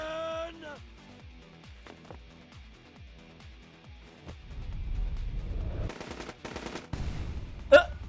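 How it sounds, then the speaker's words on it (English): Rapid, rhythmic bursts of gunfire from the video game AI: The Somnium Files repeat over game music, growing denser and louder toward the end, with a sharp crack near the close. "Did you just shoot the flower because it was thrown in the air?"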